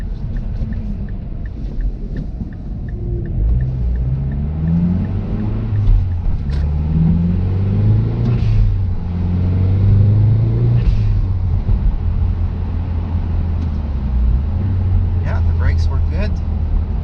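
A Mazdaspeed3 driving on the road to the highway after an engine swap, with a steady low engine rumble and road noise and rising engine notes as it accelerates, while people talk inside the car.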